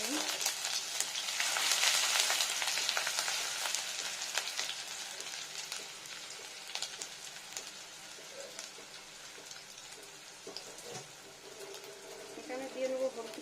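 Ginger hits hot oil with caramelized sugar in a pan, giving a bright steady frying hiss with occasional stirring clatter, close and moderately loud and fading slightly toward the end.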